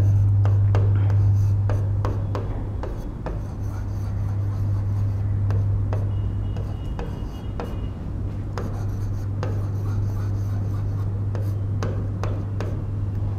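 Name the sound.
writing on a board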